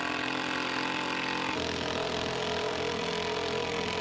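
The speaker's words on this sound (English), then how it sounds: "That little impact driver packs more punch than you'd think." An impact driver sends a 4-inch leg screw into wood, a close, steady rapid hammering whir that rises in pitch and intensity partway through.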